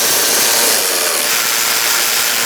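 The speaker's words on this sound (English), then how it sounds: "let's tighten these up with a 10mm socket" Tightening bolts with a 10mm socket on a 2012–2017 Hyundai Accent 1.6L transmission mount, heard as one loud, continuous mechanical whirring run lasting about two and a half seconds before cutting off abruptly.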